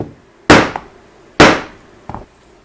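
A hammer drives a punch through leather in two sharp, loud, close strikes, each followed by a fainter rebound tap, alone with no talk.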